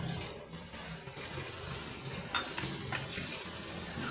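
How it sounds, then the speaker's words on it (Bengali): Tap water splashes while young Malabar spinach leaves are rinsed in a sink, a steady close hiss of running water broken by a few brief louder splashes and handling sounds. "আমি 2 থেকে 3 বার পাতাগুলোকে খুব ভালোভাবে জল দিয়ে পরিষ্কার করে নিচ্ছি, ধুয়ে নিচ্ছি পাতাগুলোকে।"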